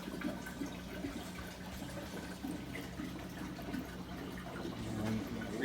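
Water rushes steadily into an aquarium being filled for a stingray and arowana, a continuous broadband gush with faint background murmurs throughout.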